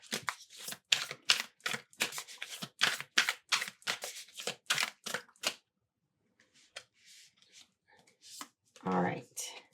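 Stiff tarot cards are shuffled in a quick run of crisp, papery riffles and snaps, fairly close, followed by a few softer handling sounds and a brief voice near the end.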